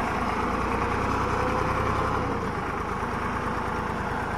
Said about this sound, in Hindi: 35 HP ट्रैक्टर है भाई सामने ग्रीव जो